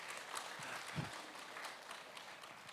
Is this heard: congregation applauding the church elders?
yes